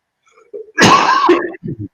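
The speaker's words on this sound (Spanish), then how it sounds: "la tos de esta me tiene loca" A single sharp, explosive cough close by, followed by a couple of small throat sounds.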